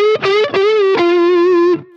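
Electric guitar through a single-coil pickup with the tone knob rolled off, playing a short sustained melodic phrase of a few notes with effects and light distortion, close and loud with no talking.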